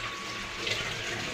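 Water sprays steadily from a hand shower in a public washroom, a continuous close hiss with a faint low hum beneath and no talking.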